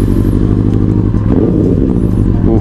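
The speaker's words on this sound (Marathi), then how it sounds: "चला बाईक स्टार्ट करू." A Benelli 600 motorcycle engine runs loudly and steadily close by just after starting, with a deep, continuous idle rumble and light mechanical clatter.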